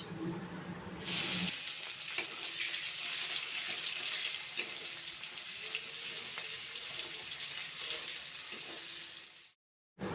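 Dried chillies and black cumin fry lightly with chopped onion in oil for a pumpkin curry, a steady bright sizzle with occasional pops and faint clinks, close and continuous, cutting off abruptly near the end with no talk.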